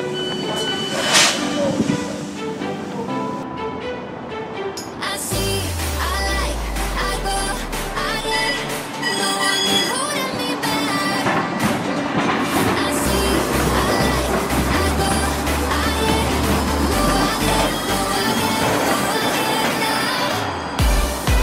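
Inside a passenger train from Liverpool Lime Street to Blackpool North, a steady rolling rumble and low motor hum run under scattered clatter and hiss, with the drone deepening partway through.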